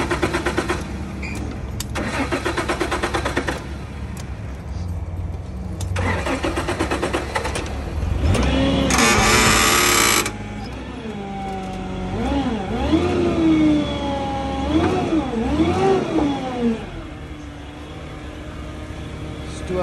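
A 2016 Hyundai Santa Fe engine cranks in short repeated bursts, then catches and starts with a loud rev before settling into a smooth idle with a few throttle blips, close by.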